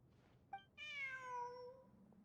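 A cat in the video game Genshin Impact lets out a short chirp followed by one long, clear, drawn-out meow that fades at the end, close and alone over a quiet background.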